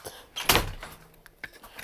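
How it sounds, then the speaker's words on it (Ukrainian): A shop door is pushed open, giving one solid clunk and rattle, then smaller knocks and scrapes as it settles. "Відкриваємо ці двері і там магазин."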